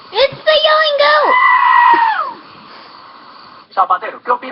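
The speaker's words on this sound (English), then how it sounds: "It's the yelling goat!" A goat lets out a loud, close, strained yell that rises and stretches into a long wavering bleat, followed by quieter noise and a few short spoken words at the end.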